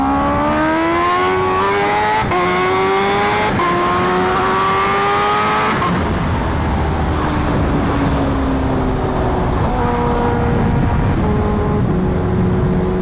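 Kawasaki Ninja H2R supercharged motorcycle pulling hard in first gear, a loud close engine wail climbing in pitch through several rapid rising sweeps, then easing off into a lower rumbling roar.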